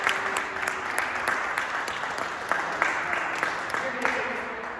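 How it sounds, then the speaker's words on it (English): A round of applause greets a volunteer coming up on stage at an Imagination Theater performance, steady broadband clapping from an audience filling the whole moment, with a voice speaking faintly over it. "Come on up, let's give a round of applause."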